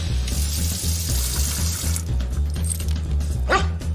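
A Delta kitchen faucet runs steadily, water rushing loudly into a dog bowl, while a dog barks and low music plays beneath, ending with a short rising splash.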